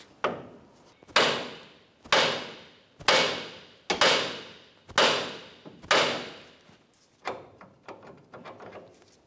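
Hammer blows on the steering knuckle of a 2004-2015 Nissan Titan to free the tie rod end: about eight sharp, heavy metallic whacks at a steady rhythm, each ringing briefly, followed by a few lighter taps, close and loud.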